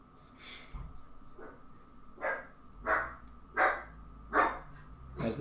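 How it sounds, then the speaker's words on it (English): A dog barks in a steady series of about five separate woofs, evenly spaced and moderately loud, over a low background hum. "There's the dog barking."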